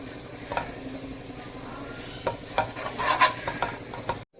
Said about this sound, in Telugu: పౌడరు వేసిన తర్వాత మంచిగా అంతా కలుపుకొని